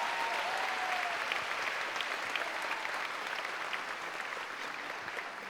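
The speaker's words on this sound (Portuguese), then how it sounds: "Vamos dar uma salva de palmas como expressão de alegria?" A church congregation applauds together in sustained, dense clapping that stays loud and even for several seconds before tapering slightly, with no voices standing out.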